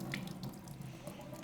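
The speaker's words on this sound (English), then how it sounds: "so just drain off the water" Water being drained off chopped potatoes in a kitchen, a steady faucet-like rush of pouring water with light drips, fairly quiet and uninterrupted.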